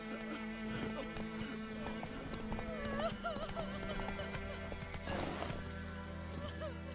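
Roach, the horse in The Witcher 3, galloping with rapid rhythmic hoofbeats and an occasional snort or whinny over steady game music at moderate loudness.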